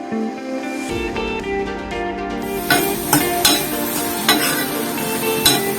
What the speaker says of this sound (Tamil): நல்லா கொஞ்சம் வதங்கணும் இந்த தக்காளி.